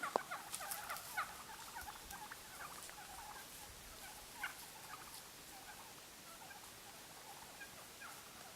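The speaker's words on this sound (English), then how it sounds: "we have some wild turkeys that were on the road." Faint, distant wild turkey gobbles from near a road rise in a few short bursts over a quiet outdoor background with light rustling.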